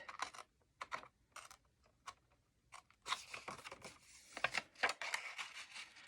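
Paper pieces being cut for a craft, a series of crisp close snips and rustles, sparse at first and then denser and louder in quick bursts.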